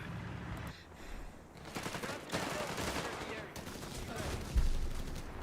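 Machine gun fire rattles in bursts during a Company of Heroes 3 battle, with several separate volleys and scattered shots. A voice speaks over part of the gunfire.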